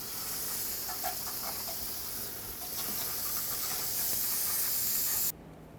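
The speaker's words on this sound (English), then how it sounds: "spray some brake parts cleaner all over to get rid of all the dust, brake dust and debris, sand" Brake parts cleaner sprays onto the rear brakes and parking brake shoes of a Chevy Express 3500 van, a continuous close hiss that runs steadily for several seconds and then cuts off abruptly.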